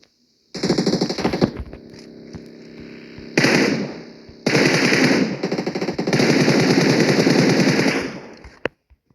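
Gunfire in the mobile battle game PUBG Mobile rattles in rapid automatic bursts, loud and close, with a short burst followed by longer sustained streams of shots and brief pauses between.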